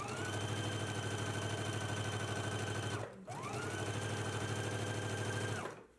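A sewing machine stitches a flounce seam with a 5/8 inch seam allowance, its motor humming loud and close in two steady runs separated by a brief pause, then winding down.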